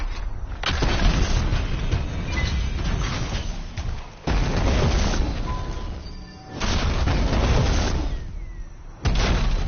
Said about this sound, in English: Yes, giant beautiful booms